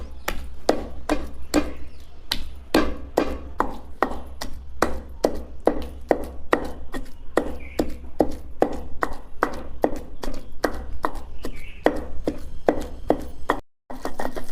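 Garlic is pounded in a stone mortar for chutney, steady rhythmic thuds about three each second, loud and close, with a brief break near the end.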